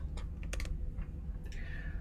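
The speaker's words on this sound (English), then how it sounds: "I'm going to try typing in another bunch of gibberish in here and see if it still works" Quick gibberish typing on a computer keyboard, a few scattered keystroke clicks at close range over a steady low background hum, with no voice.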